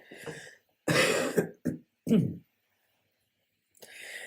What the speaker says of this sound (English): Hold on, I have to clear my throat.